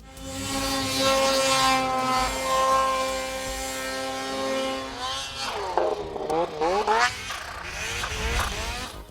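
Supercharged snowmobile engines roaring on a ride, a loud sustained whine that holds steady and then swings up and down in pitch as the sleds rev and pass nearby.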